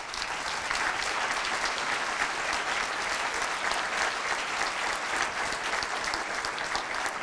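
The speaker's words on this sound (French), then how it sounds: "j'aimerais qu'on les applaudisse" Steady, even audience applause at a school event honouring its staff, a sustained wash of many hands clapping at moderate, slightly distant level with no talk over it.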